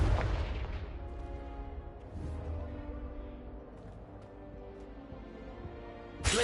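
A Confringo fire spell in Hogwarts Legacy bursts with a loud booming blast at the start, then a long fading rumble and ringing tail, ending with a second sharp hit.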